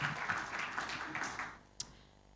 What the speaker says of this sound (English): Let's give him another big hand clap.